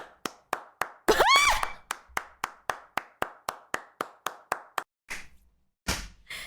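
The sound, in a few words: one person clapping sound effect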